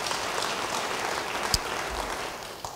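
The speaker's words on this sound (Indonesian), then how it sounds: "Beri tepuk tangan yang baik bagi dia." A church congregation applauds, steady dense clapping filling the room for a few seconds, with a couple of sharper individual claps standing out near the end.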